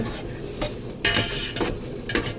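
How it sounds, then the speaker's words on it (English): Shallots cooking in a pan on a home stove, with a steady low sizzle under a few clear scrapes and clinks of a utensil against the pan, and no voices. "shallots smell so good when they're cooking"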